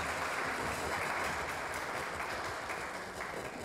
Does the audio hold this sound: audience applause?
yes